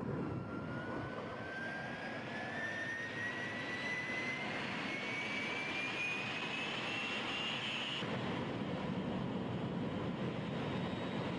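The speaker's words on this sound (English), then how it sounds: "as cheesy as that commercial is with the whole like plane taking off noise" Jet airplane taking off in a sneaker commercial for the Air Jordan 1: a steady, loud engine roar with a rising whine that climbs over several seconds, then a sustained broad rumble and hiss.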